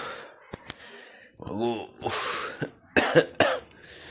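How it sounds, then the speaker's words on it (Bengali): Several sharp coughs from a person with a cold, with throat-clearing bursts, close and loud, scattered through a few seconds with brief pauses and a short voiced groan between them. "কাশি হয়েছে খুব"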